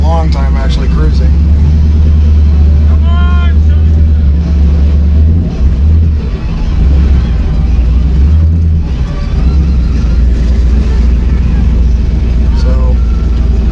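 A Plymouth Valiant car cruising at steady speed, its low engine drone continuous throughout with road rumble, while people talk inside the cabin over it.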